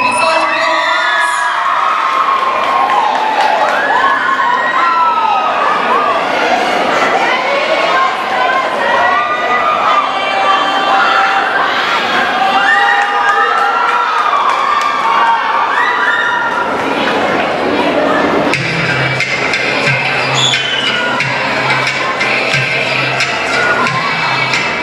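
A crowd at an anime convention K-pop challenge cheers, screams and whoops after a dance performance, loud and sustained with high excited voices throughout and clapping mixed in.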